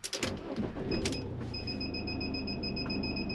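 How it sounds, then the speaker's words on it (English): A few clicks and clunks are followed by a steady, high electronic beep tone from a connected reversing camera on a Swift Bolero motorhome, fairly quiet, over a low engine idle. "That beeping in the background is to say we're hooked up"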